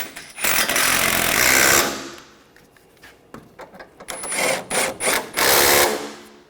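Power tool tightening the bumper impact absorber bolts on a 2013-2019 Ford Escape: a loud, close whirring run for a second or so, then several short buzzing bursts, with no talk.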